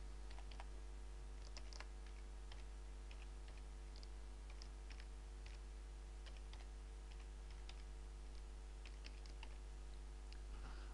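Typing on a computer keyboard while writing ActionScript 3.0 code, with a quiet, steady run of key clicks that continues through the whole stretch, close by but faint over a constant low background hum.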